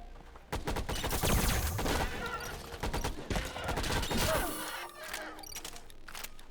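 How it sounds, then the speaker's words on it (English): Volley gunfire in the space game Farworld Pioneers, a dense, loud barrage of overlapping shots and blasts rolling on for several seconds before thinning into scattered impacts. "When the volley fire comes out, everything just gets destroyed."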